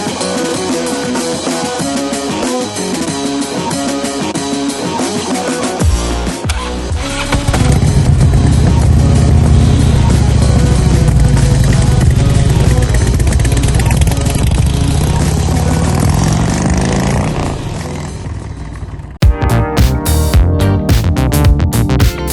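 A Kawasaki Vulcan Voyager motorcycle fitted with a Sharkroad exhaust runs close by, idling with a throaty rumble, then revving and settling before a sharp break and a burst of choppy, popping exhaust.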